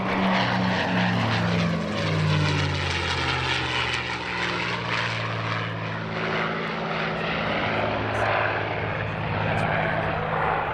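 A WWII propeller warbird, a Mustang, flies past at an airshow ahead of a four-ship US Air Force heritage flight. Its loud, steady engine drone shifts in pitch as it passes.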